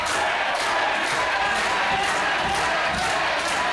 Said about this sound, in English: And the crowd just electric and roaring